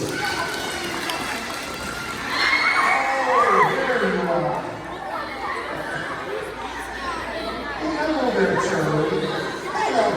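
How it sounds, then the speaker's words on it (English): An audience of children cheers and chatters excitedly, a lively crowd roar that surges after a couple of seconds and stays busy, with an adult voice talking over it. "how about a nice warm round of applause"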